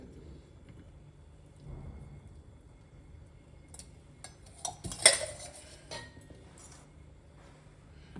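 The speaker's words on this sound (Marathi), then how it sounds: "आणि हे आता आपण मिसळणार आहोत" A spoon stirs oil into grated cucumber and jaggery in a bowl, giving faint soft scraping and a brief cluster of light clinks, quiet and without speech.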